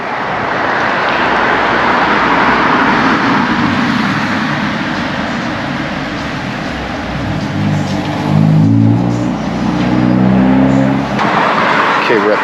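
A car interior carries a steady engine and road drone as the car drives along, loud and continuous with a brief rise partway through.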